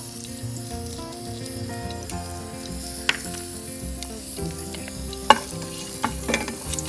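Whole cardamom pods, cinnamon and cloves sizzle in a hot pan, a soft continuous frying hiss with a few sharp clicks and stirring knocks under steady background music.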